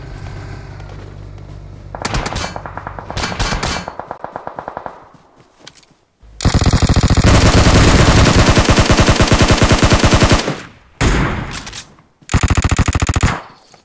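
Vector submachine gun fire in a shooting video game, loud, rapid automatic bursts in several long strings separated by short gaps, with no voices over the shots.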